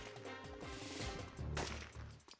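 Gunfire in the video game Syphon Filter played on PS3, heard as a short burst of sharp shots cutting through steady, tonal in-game sound, loudest near the middle.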